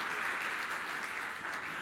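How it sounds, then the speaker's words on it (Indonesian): Steady applause from a church congregation, a continuous dense wash of clapping at even volume for the whole stretch, with no voices standing out. "yuk kita beri tepuk tangan bangga dengan prestasi ini."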